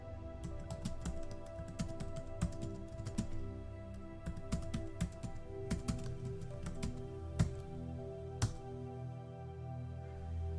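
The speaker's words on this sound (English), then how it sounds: "Now create another file called mylib.cpp inside the lib folder and type these lines." Steady, rapid typing of code on a computer keyboard, close and clear, with dense key clicks and a few louder keystrokes standing out over a faint hum.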